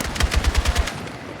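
Rapid automatic gunfire from a Battlefield 6 video game battle, a short burst of about seven evenly spaced loud shots followed by fading echo, with no talking.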